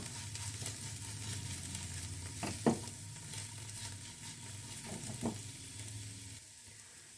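A stuffing mixture seasoned with oregano, chilli flakes and black pepper cooks quietly in a pan, giving a soft low sizzle punctuated by a few scraping strokes of a spoon, faint and close with no talking.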